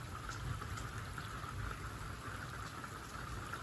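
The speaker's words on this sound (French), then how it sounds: "le tonnerre s'entend très bien quand même" Steady rain falls through a summer thunderstorm, a soft continuous patter with a faint low rumble of distant thunder beneath it and no voices.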